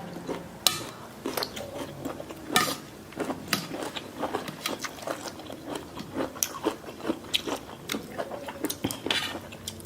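Someone chews crunchy Thai papaya salad with snails right at the mic, making irregular wet bites and sharp crunches that repeat throughout.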